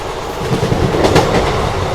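Rumbling, clattering wheels of the Vande Bharat train near Vadodara, heard steadily from onboard as it picks up speed, with no talk over it.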